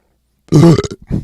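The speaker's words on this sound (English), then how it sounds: "That belch brought to you by Sam Adams, by the way." One loud, deep belch erupts after a moment of silence, followed by a short second gulping burp, very close.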